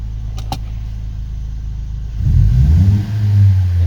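A Lexus IS200t with its rear mufflers removed idles with a low steady drone, then the engine revs hard and loud, the raw exhaust note rising, dipping briefly and climbing again, close by.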